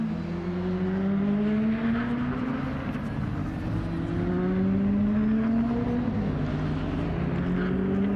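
A DTM race car on a qualifying lap at the Nürburgring screams past, its engine note climbing through repeated upshifts, loud and continuous over a steady background roar.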